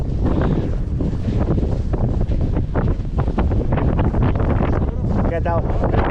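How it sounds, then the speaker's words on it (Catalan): Wind buffets a microphone outdoors on a cold mountain outing, a loud continuous rumbling roar with gusting surges, while people talk close by over it. "a la Carme només es deu estar escoltant vent i vent"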